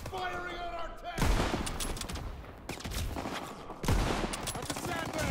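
Heavy gunfire in the World War II shooter Call of Duty WW2: dense, continuous volleys of rifle and machine-gun shots with booming impacts, loud and close, with voices talking under the battle.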